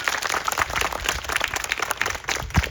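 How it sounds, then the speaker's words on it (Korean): A congregation at an outdoor church service claps together in a brisk, steady patter of many hands, heard close and alone for a few seconds. "우리 하나님께 영광의 박수를 드리겠습니다"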